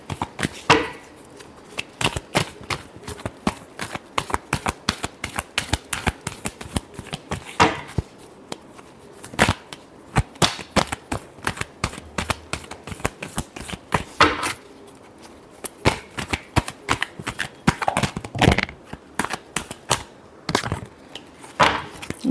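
Tarot cards shuffled by hand, giving a continuous run of rapid, crisp riffling clicks and slaps close by, lasting the whole stretch with only brief pauses.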